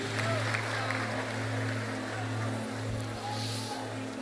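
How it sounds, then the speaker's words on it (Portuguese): A large church congregation applauds during an evangelical gathering. The clapping is a dense, steady wash of sound throughout, under a strong electrical hum from the sound system. "dando a Jesus uma linda salva de palmas"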